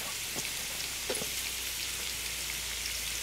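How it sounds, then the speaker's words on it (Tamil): Beans, carrot, cabbage and capsicum sauté in a pan for noodles, giving a steady, fairly quiet crackling sizzle with a few small pops and clicks scattered through. "குடமிளகாய் எல்லாத்தையும் போட்டாச்சு. கொஞ்ச நேரம் வதக்கிடலாம்."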